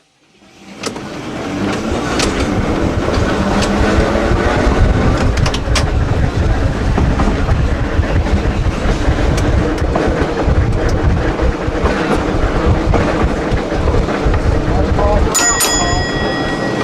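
Trolley 1718 at Old Threshers in Mount Pleasant, Iowa, rumbles steadily along the line through the campgrounds, a continuous loud rolling clatter with a brief bell-like ring near the end.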